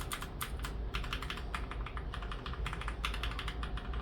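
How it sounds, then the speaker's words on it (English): Steady, fast typing on a mechanical keyboard with Gateron-clone blue clicky switches, each keystroke giving a sharp, bright click in an uneven rhythm, close and fairly quiet. "this is the Gateron Blue Clicky, or the Royal Kluge Blue Clicky switch, which is Gateron clone"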